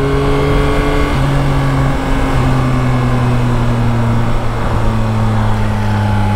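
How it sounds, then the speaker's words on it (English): Yamaha Tracer 900 GT motorcycle engine revving steadily through gear changes, a loud continuous drone whose pitch steps up and down, heard close without talk. "makes you want to change up and down gears just for the hell of it. Not because you need to, but because it makes pretty noises"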